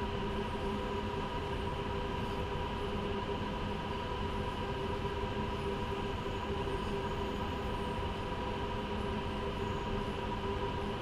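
Freight trains rolling past on the Spessart Rampe in Train Sim World 2, a steady unbroken rumble of rail noise with wheel hum and a tonal drone, constant and loud throughout with no voices.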